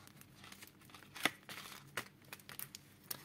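A deck of tarot cards being cut and handled, giving close soft papery rustles and flicks with one sharper snap near the middle, quiet and irregular.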